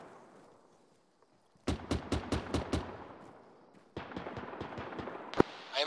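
Rapid gunfire in a combat video game, a burst of about six evenly spaced sharp shots followed by a denser, quicker string of rounds and one louder crack, with faint voices before it.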